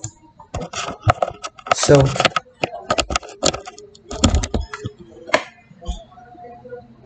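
Clicky computer keyboard keys tapped in irregular bursts while entering a Minecraft cheat command, close and fairly loud, with someone briefly speaking.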